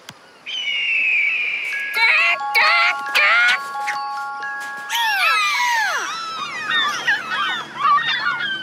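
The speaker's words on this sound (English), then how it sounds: "Here's what a hawk sounds like." Hawk call played as a recorded sound effect: sharp, loud screeching cries and descending whistles, several bursts in quick succession that build to a cluster of overlapping calls near the end.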